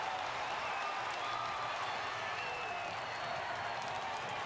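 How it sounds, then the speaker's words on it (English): Tiger fans in a ballpark crowd applaud at an LSU baseball game, a steady wash of clapping and crowd noise that holds evenly for several seconds at moderate distance, with faint voices mixed in. "listen to Tiger fans applaud Jordan Thompson"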